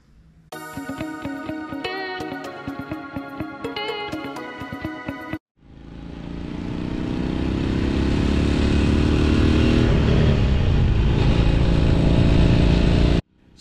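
A 1964 Honda 305 Dream motorcycle engine starts and runs, first a rhythmic clattering idle, then a strong steady roar that builds and holds loud and close, with no voices.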